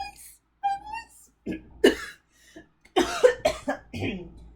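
Several harsh coughs in bursts, close to the microphone, with brief throat sounds between them.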